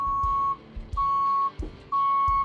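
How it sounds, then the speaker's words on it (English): Warning alarm on a supersized fire engine, triggered when equipment is lowered: three steady, loud electronic beeps in a slow even rhythm, like a backup alarm, with quiet gaps and faint thumps between them. "It's almost like a backup alarm."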